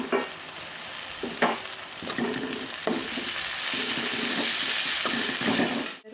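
Green chillies and onions sauté in a hot pan with a steady sizzle, while a spoon stirs and scrapes now and then, heard up close with no talking.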